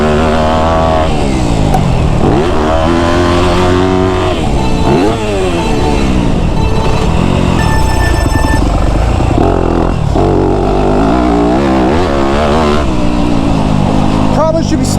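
A motocross dirt bike being ridden on a track, its engine revving up and down in repeated surges with gear changes, loud and close throughout for the whole stretch, with a voice talking over it.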